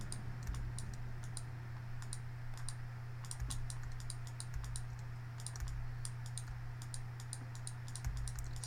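Rapid computer keyboard typing and clicks during digital image editing, a steady near run of light taps over a low constant hum, with no voices.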